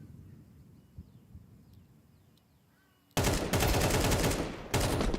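Counter-Strike match in progress: quiet ambience, then a sudden loud burst of dense gunfire and explosive grenade impacts that fills the second half of the clip, with brief dips between volleys.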